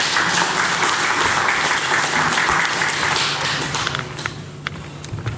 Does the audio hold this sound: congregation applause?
yes